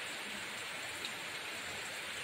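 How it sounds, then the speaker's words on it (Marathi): Heavy rain pours steadily outside a house, a dense, even hiss of drops that stays loud and unbroken throughout, with no voices. "लय जोरात पाऊस आहे"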